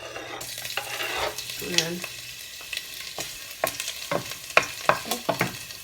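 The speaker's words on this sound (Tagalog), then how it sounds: "Ayan, ilagay ko na itong bawang." Garlic sizzles and crackles as it is stir-fried in a hot pan for a tinola chicken dish, close by, with sharp scraping stirs of a utensil against the pan punctuating the frying.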